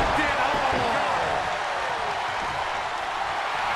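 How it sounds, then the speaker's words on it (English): A roaring arena crowd in WWE 2K23 during a NJPW tag match keeps up a steady wash of cheering, with a commentator's voice over it. "The sound of this crowd is deafening, and he's asking for more."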